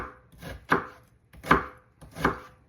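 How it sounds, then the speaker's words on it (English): A knife cuts down through an onion on a cutting board, three crisp, evenly spaced chops with short pauses between, close and clear with no talking. "you're going to make incisions and cut all the way through the onion like this"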